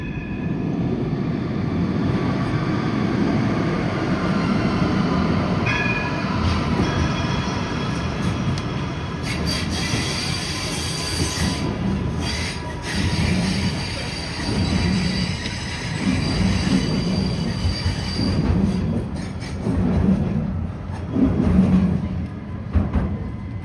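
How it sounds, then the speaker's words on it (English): A metro train arrives at a station in Porto, Portugal: a loud, steady rumble of wheels on rails with metallic squealing and clatter, and no voices. "So, there's a metro coming."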